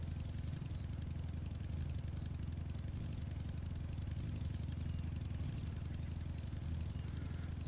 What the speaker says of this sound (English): I also like my motorbike.